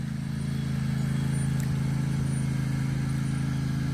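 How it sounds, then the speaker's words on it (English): A ride-on lawn mower engine drones steadily at close range, a constant low rumble with a faint rattle and no changes in pace. "Nancy wanted to take Oshi for a ride on the mower."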